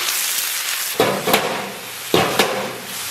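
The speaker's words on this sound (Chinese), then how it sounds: "油温微微热，咱们下葱蒜干辣椒给它爆香，然后把咱们的配菜给下里边" Hot oil sizzles steadily in a wok as scallion, garlic and dried chili go in for stir-frying vegetables, with two louder bursts of crackling spatter as ingredients drop in and are tossed, close and loud.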